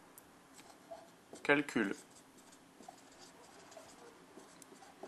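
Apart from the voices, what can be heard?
writing on a board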